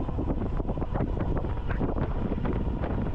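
Strong wind buffets the microphone outdoors during a ride on a Ride1UP Portola electric bike, producing continuous loud low rumbling gusts with no speech over it.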